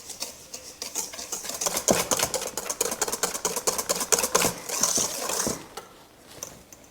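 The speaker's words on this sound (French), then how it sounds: "On ajoute le sucre au jaune et on va fouetter pour blanchir le mélange." A hand whisk beats egg yolks with sugar in a bowl for a lime meringue roll cake, giving a fast, steady run of light clicking strokes up close, with no talk.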